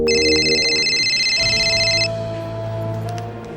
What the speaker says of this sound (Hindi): जब जौनपुर में दोबारा सूरज ढला तो जीनत को असलम का फोन आया।